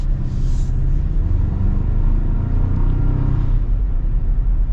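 Loud, steady low engine rumble of a 2026 Toyota Tacoma pulling under acceleration, heard from inside the cab with a sustained drone and no talk.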